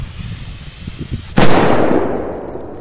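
A single sharp bang from a small firecracker bursts out loud after a few seconds of low background rumble, followed by a fading noisy tail.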